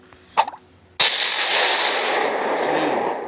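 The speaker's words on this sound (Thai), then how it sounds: "ตอนนี้ผมได้สร้างระเบิดพีชีพนะนี่นี่อันนี้เดี๋ยวผมจะไปพีชีพตัวเองนะ" In a video game, a suicide bomb goes off with a sharp, loud blast followed by a long roaring, hissing wash of debris noise, preceded by a short clicky burst of smaller sounds.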